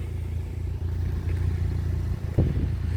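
A vehicle engine idles as a steady, close, low rumble, with a brief rise in throttle near the end.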